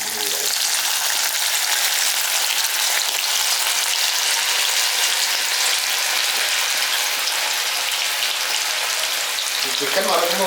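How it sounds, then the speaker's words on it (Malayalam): Chicken pieces deep-fry in hot oil with a loud, dense, unbroken crackling sizzle that holds steady from start to finish, close up. "ഇനി ഇത് ഓരോരോ പീസായിട്ടിട്ട് നമുക്കൊന്ന് വറുത്ത് നല്ല റെഡിയാക്കി എടുക്കണം"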